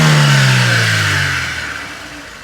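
A Daewoo Nexia car engine running on LPG gas revs up loudly nearby, then the pitch slides down as the revs fall back toward idle.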